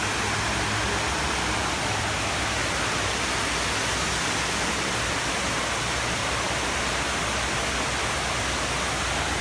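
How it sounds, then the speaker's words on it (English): A steady, dense rush of water falling into the 9/11 Memorial fountain in New York City pours continuously, like a waterfall, loud and close with no breaks or voices. "you guys can hear the sound is very, very dramatic. It's almost like a waterfall."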